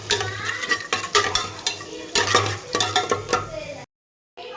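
Onions and curry leaves sautéing in a pan for tomato rice, with repeated close spatula scrapes and clinks over a low sizzle, then a brief dropout of silence near the end.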